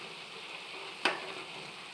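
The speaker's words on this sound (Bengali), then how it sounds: "এইভাবে সব কটা পকোড়া এমন করে ভেজে তুলে নিলাম" Cauliflower pakoras frying in oil give a faint, even sizzle throughout, with one sharp crackle or pop about halfway through.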